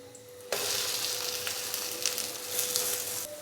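Spicy bread toast cooks in a pan on a medium-low flame with a steady close sizzle and crackle that starts abruptly and continues evenly throughout.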